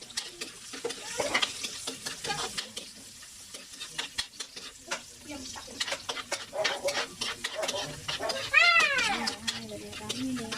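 Chili sautés in a pan for pechay with sardines, giving a crackling sizzle with scraping stirs, while a cat meows loudly near the end.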